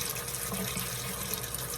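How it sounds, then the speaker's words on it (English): Steady running tap water rinses a cup under the faucet, a continuous close splashing flow with no pauses and no voices. "So then you want to rinse it off again."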